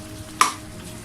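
Coriander is stirred into a sizzling mutton karahi, with one short scrape of the spoon against the pan over a low, steady frying hiss and no talking.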